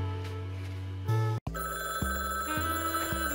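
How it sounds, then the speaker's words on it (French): A telephone ringing in a detective video game, an electronic bell tone in repeated rings over a steady musical background, clear and fairly loud. "Alors, tu devrais répondre au téléphone, boss."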